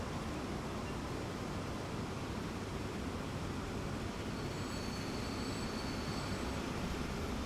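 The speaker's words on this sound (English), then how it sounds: "Here comes a little freighter." In the Transport Fever 2 game, a freight train arrives with a steady broad rumbling roar that holds constant throughout, a faint high whine appearing late on, with no talking.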